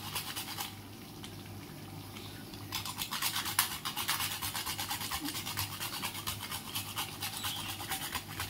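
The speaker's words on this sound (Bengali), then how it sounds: "সামান্য একটু জায়ফল গ্রেট করে দেব" Nutmeg is rubbed against a grater in quick, even strokes, a close, steady rasping scrape that pauses briefly and then resumes at the same brisk rhythm.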